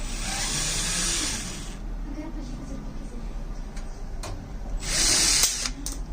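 A power screwdriver whirs in two bursts, at the start and near the end, loosening screws on the top panel of a washer-dryer, with quiet handling clicks between them.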